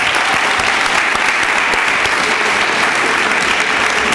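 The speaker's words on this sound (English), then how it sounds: "Give them another round of applause." A loud, steady round of applause from an audience at a Yonkers school gathering, many hands clapping densely and evenly with a few sharper individual claps standing out.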